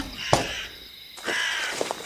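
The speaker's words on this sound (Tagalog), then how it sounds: "Yun yung huni ng ibon na nandito kanina." A crow caws harshly several times, a loud nearby call followed by longer rasping caws.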